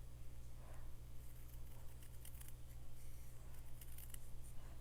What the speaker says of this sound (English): I'm just hand snipping just right up as close as I can get to the descending letters.